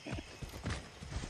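Horse hooves clip-clop in a quick, steady rhythm as a horse is ridden in the Far Cry 6 video game, a short, fairly faint run of hoofbeats with no talk.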